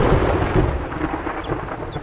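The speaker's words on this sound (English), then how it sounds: "the new storm sounds are phenomenal" A thunderstorm in the survival game 7 Days to Die rumbles close and loud, heavy thunder rolling under steady rain with no voices.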